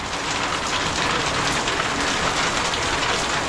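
Heavy rain pours down steadily at a roadside food shop, a dense, constant hiss of drops drumming on surfaces, loud and close with no voices.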